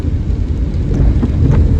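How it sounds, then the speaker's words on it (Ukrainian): Steady rain hiss in Kyiv with a low rumbling undertone, continuous and fairly loud throughout, no voices. "Київ дощом зустрів."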